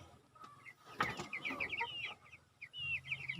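Native chicks give a quiet flurry of high, quick peeps, several overlapping, with a brief rustle partway through and a faint low hum beneath.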